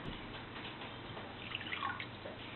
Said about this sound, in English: But then when I pour it back in the cup,